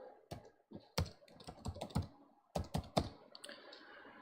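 Someone types on a computer keyboard in a quick, uneven run of close, crisp key clicks with short pauses between bursts, with no talking.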